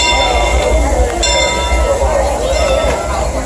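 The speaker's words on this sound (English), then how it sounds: "I am on the train." The Disneyland Railroad train moves in a steady, loud rumble of wheels on track, with faint squeals and a constant low drone throughout.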